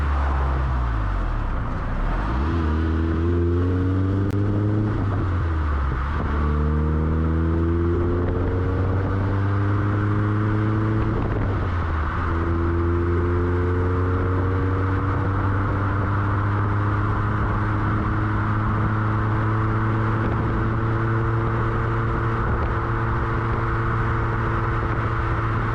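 A 1990 Honda Civic Si hatchback engine working on curvy roads, revs climbing and falling in repeated rising sweeps with clear gear changes, a steady close cabin drone throughout.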